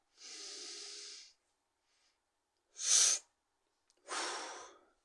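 Three close, distinct breaths drawn through the nose, each a soft airy hiss, the second short and sharp, the others longer, separated by quiet pauses with no talking.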